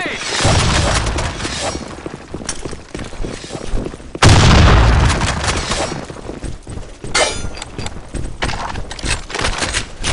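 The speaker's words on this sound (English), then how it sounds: "Grenade!" A loud, close grenade blast in the first-person shooter Blackshot, a sudden booming burst that rolls off into crackling debris amid ongoing gunfire and battle noise.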